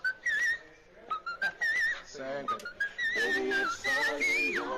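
A human voice in whistle register, imitating Mariah Carey, with high, thin sliding pitches in short phrases broken by gaps, close and fairly quiet.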